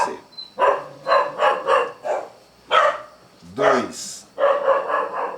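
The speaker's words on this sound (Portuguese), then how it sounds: "a participação dos cachorros não deixa de acontecer" Dogs bark in quick clustered volleys, loud and nearby, with a brief whimpering yelp midway before another burst of barking.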